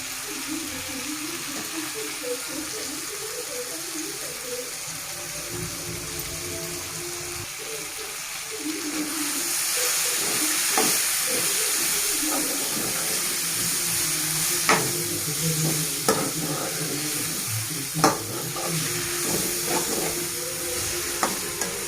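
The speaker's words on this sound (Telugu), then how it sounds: "అలాగే ఇప్పుడు మనం ఆనియన్ యాడ్ చేసుకుందాం" Chopped onions hit a hot frying pan for a dried red chilli and tomato chutney, the sizzle swelling loudly partway through and running steady, with scattered scraping clicks of a spatula stirring through it.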